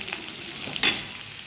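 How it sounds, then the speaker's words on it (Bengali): Radish greens frying in a pan give a close, steady hiss and sizzle, with a brief louder crackling burst partway through as they are stirred, and no voices. "আজ হচ্ছে মূলো শাক ভাজা।"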